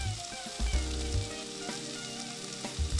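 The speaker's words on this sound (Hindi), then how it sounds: "वेजीज को 2-3 मिनट के लिए सॉटे करेंगे." Chopped vegetables with boiled kidney beans, green capsicum and salt sautéing in a pan, a steady close sizzle with a few scraping stirs, no voices.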